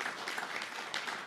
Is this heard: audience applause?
yes